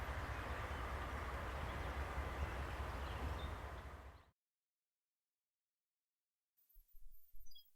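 Reading and Northern locomotives moving past a signal at Lehighton, a steady distant rumble of rail traffic that fades away and cuts to silence before a brief low sound returns.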